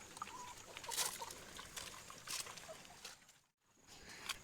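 Light rain begins to sprinkle over a homestead garden and orchard, a soft, steady crackle of scattered drops pattering close by with brief louder spatters and no talking.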